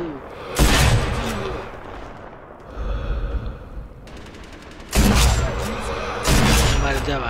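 Gunfire bursts from the video game Sniper Elite V2, loud rapid volleys of shots that come and go in several heavy clusters over a noisy battle backdrop.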